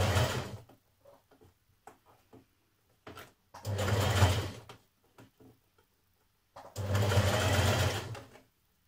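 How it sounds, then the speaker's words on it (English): A sewing machine stitches a narrow zigzag stitch on blouse fabric in three bursts: one brief, then two longer runs of steady mechanical whirring, with faint clicks and handling noises in the quiet gaps between. "you want to stitch this with a narrow zigzag stitch again"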